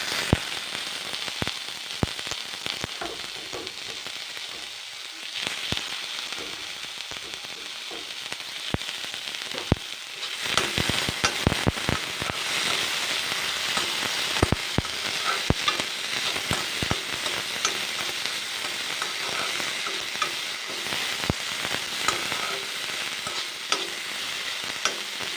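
Tomatoes fry in a hot pan for an Assamese egg and soybean dish, a continuous crackling sizzle punctuated by sharp clicks and scrapes of a spoon stirring against the pan.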